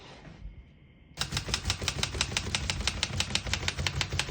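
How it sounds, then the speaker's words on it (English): A 1947 Remington De Luxe Model 5 portable typewriter being typed on: a steady, fairly fast run of sharp key strikes, close and clear, following a short quiet mechanical shift at the start. "We're going to keep that on single and finish typing."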